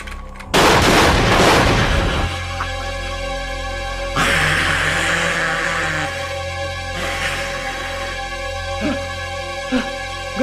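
Gunfire in an Indonesian Warkop DKI comedy horror film: a loud burst of shots opens the scene, followed by more sharp reports and booming blasts over a sustained musical score, with no talking.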